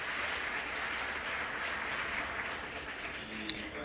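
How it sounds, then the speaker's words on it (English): Steady applause from an audience in a festival tent, thanking a team of around 400 festival workers; a broad, even wash of many hands clapping at moderate level, with one sharp click near the end. "they deserve a round of applause"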